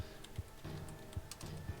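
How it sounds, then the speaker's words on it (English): Keys clatter on a computer keyboard in quick irregular bursts of typing, close and fairly quiet, with short pauses between runs. "Maybe if I start typing in things,"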